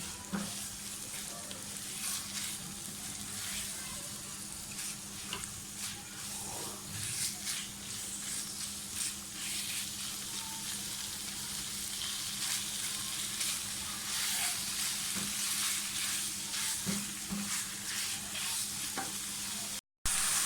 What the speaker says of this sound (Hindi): चिकन हमने डाल दिए, इसको भी अच्छी तरह से फ्राई कर लें।